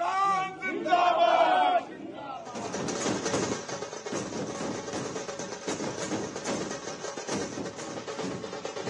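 BJP party workers celebrate the Vikram lander's Moon landing with a loud, dense crowd roar, beating drums and bursting firecrackers; a brief burst of sound precedes a sustained, busy wall of cheering and percussive cracks.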